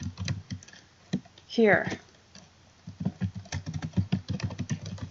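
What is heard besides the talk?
typing an email address on a computer keyboard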